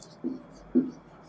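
Two short scratchy strokes of writing on a classroom board, separated by a brief pause, fairly close and clear against a quiet room with no talk over them.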